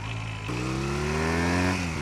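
A Honda Rebel 250 single-bike engine fitted with a pod filter intake runs steadily under way in second gear, a close, continuous droning hum with a brief shift in pitch partway through.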